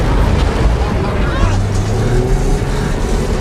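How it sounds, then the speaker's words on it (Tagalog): A tank engine finally catches after several failed tries, a loud, steady mechanical roar with a low rumble that holds throughout, close and continuous, with a voice speaking over it. "Pagkatapos ng ilang pagtatangka, sa wakas ay gumana rin ang makina."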